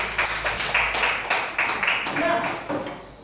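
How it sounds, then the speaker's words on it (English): A small class group claps in a few loose, uneven bursts for group A, fairly close, with a rhythmic patter rising and falling over a few seconds. "Give an applause to group A, please."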